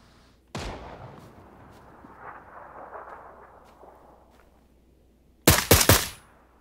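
Gunfire in PUBG: a single sharp shot early, then a rumbling quiet stretch, followed by a loud cluster of several close rapid shots near the end.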